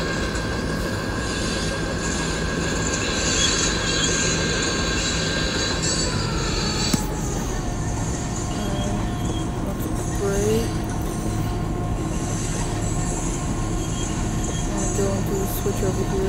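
A 100-car freight train in a train and rail yard simulator game rolls steadily with a continuous rumbling clatter and faint wheel squeal, a midway shift in tone as it keeps moving.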